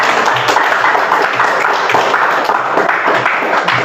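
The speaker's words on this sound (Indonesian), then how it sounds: "kita beri tepuk tangan untuk kelompok 3" A school science class claps for a student group, a steady wash of classroom applause with scattered individual claps, fairly close and without talk.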